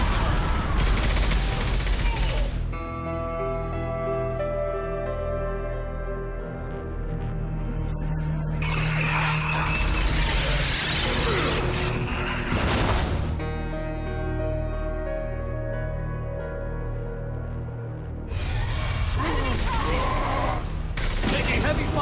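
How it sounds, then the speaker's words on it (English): Heavy gunfire breaks out in three loud bursts of rapid shots over a background of sustained tonal music and voices. "Taking heavy fire."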